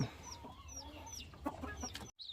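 A mother hen with newly hatched chicks clucks softly in a quick series of short, low notes, fairly close, with a brief pause near the end.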